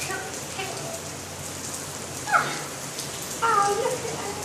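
Steady rain falls during a summer thunderstorm, a continuous close hiss of drops on surfaces with a couple of brief higher sounds over it.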